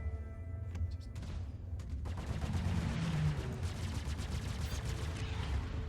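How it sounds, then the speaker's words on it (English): Ship weapons on a Reliant firing during PvP combat in Star Citizen, a dense, continuous stream of rapid shots that holds steady at high volume across the whole stretch, with no voices over it. "It's trying to fire a Reliant in PvP."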